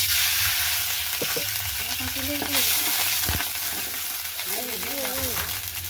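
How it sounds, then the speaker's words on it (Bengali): Onion frying and beginning to burn in a pan for a tengra fish curry with potato and eggplant: loud, steady sizzling with sharp stirring knocks, plus brief snatches of a voice in the background. "এই যে একটু পরিমাণ মতন আমি পেঁয়াজ নিয়ে দিলাম। পেঁয়াজটা পুড়ে যাচ্ছে।"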